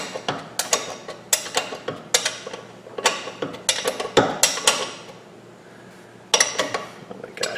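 A wrench turning a bolt while installing front long arms on a Jeep WJ, giving sharp, close metallic clicks and clanks in quick uneven bursts, with a short pause before the clicking resumes.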